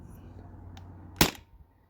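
A single sharp crack from a Byrpro Kinetics Sabre pistol running on a 12-gram CO2 cartridge, firing a 3-gram ball; one loud close shot after a quiet low hum.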